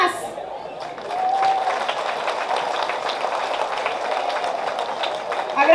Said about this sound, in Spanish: que me les den un fuerte aplauso a las mujeres que nos